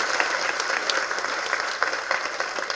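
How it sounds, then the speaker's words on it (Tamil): A crowd applauds a first-time director at a Tamil film event for Kaaduvetty, with steady, dense clapping throughout and no voices on top. "நல்ல கைத்தட்டு கொடுங்க அவருக்கு"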